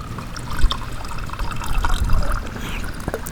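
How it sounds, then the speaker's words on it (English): Brown river water gurgles and trickles steadily into a bottle at a wild camp, loud and close, with a few sharper splashes and no talking. "So that's those 2 bottles filled in no time."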